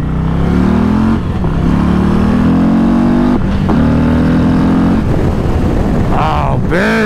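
A 2024 Harley-Davidson Road Glide CVO ST being ridden on a North Carolina road, its engine loud and close with rising revs through gear changes and steady wind roar, a rider talking over it.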